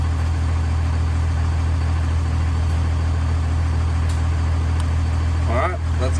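A 1500-horsepower Cummins diesel truck engine idles steadily with a deep, constant rumble, close by and loud throughout.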